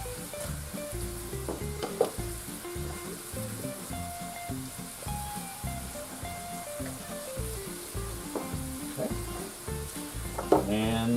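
Peppers hit a hot pan with garlic for shrimp pasta, giving a steady loud sizzle with stirring scrapes and small clinks throughout.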